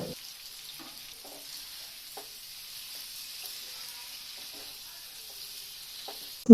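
Chicken and potatoes sizzle steadily as they fry in a pan, with a few soft scrapes of stirring scattered through the constant hiss and a louder knock at the very end.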